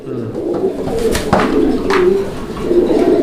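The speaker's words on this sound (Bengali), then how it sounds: "এই মুহূর্তে আমরা দেখতে পাচ্ছি এখানে দুর্দান্ত আরও একজোড়া কবুতর" Pigeons coo steadily in a pair at a farm, low repeated calls continuing throughout at moderate loudness, with some background noise.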